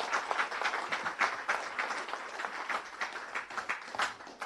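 Sustained clapping from a crowd at a startup pitch day, dense and even throughout, moderately loud with no voices on top.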